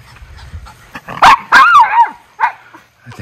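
Miniature Schnauzer brothers bark at a neighbor in a burst of loud, close, high yapping barks, three or four sharp bursts with short gaps, mixed with small yips.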